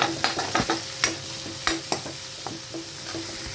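Cabbage stir-fries in a pan for paneer fried rice, with a spatula clanking and scraping in an irregular rhythm over a soft, steady sizzle, close and moderately loud.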